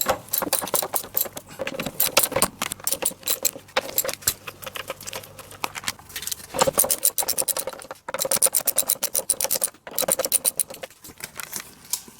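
A wrench working on the bolts of a DeLorean cooling fan shroud, with a run of close metallic clicks, ratcheting and jangling in bursts and short pauses.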